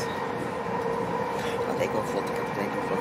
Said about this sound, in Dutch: We zijn dus op de trein richting Sint-Kruis.